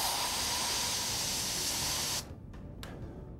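A loud, steady hiss of pepper spray blasting in one continuous burst for about two seconds, then cutting off, leaving a few faint short puffs.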